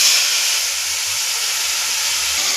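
Sliced potatoes, cut long like fries, frying in hot oil, giving a steady loud hiss and sizzle throughout with a faint low hum underneath.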